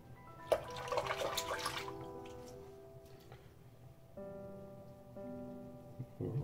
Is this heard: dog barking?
no